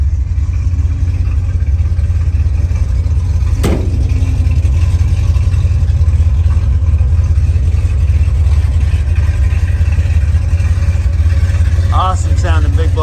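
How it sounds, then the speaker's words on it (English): A 1970 Chevelle SS 396 in Cranberry red rumbles with its big block V8, a loud, steady, deep idle throughout, broken by one sharp click partway through. "Awesome sounding big block motor."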